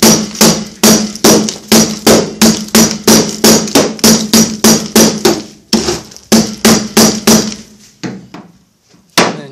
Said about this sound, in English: Just give it a few good whacks.